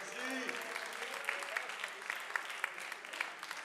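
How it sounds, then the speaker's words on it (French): Audience applause for a slam team at a poetry slam competition, a moderately quiet, continuous patter of many hands with a few sharper claps standing out. "Et là, on l'applaudit quand même, allons-y"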